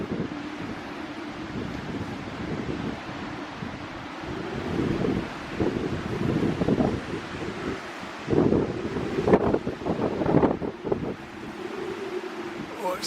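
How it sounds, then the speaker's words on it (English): Wind gusts roar through boat rigging at the Splash Point shoreline in Watchet, with steady low rushing and whistling that swells in louder bursts toward the end, accompanied by faint surf in the background. "It's the wind and that rigging that's making the noise"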